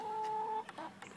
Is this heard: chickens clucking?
yes